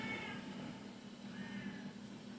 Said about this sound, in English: Cat's mad that I'm not paying attention to him.